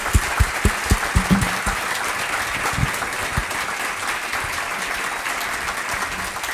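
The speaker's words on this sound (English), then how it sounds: "Can you please give them a round of applause?" Audience members at an academic panel discussion applaud the panelists and moderator, a few crisp near claps opening into sustained, even crowd clapping that holds steady throughout.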